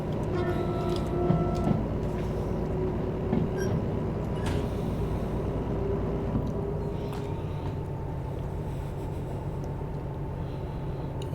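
A DE4 diesel locomotive in Derail Valley rolls in reverse to couple onto its train, a steady low engine drone and rail rumble with a few clanks and squeals early on, held at moderate distance throughout.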